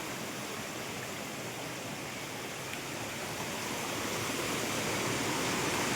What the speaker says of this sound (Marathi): त्या धबधब्याचा हा मधनं पाणी खाली येत आहे